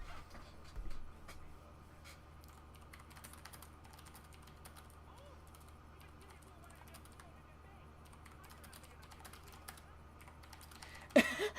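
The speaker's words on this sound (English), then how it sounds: "I can hear your keyboard." Quiet, rapid typing on a mechanical keyboard with Cherry MX Blue switches clicks along steadily, brief bursts of keystrokes with a louder clatter near the start and end.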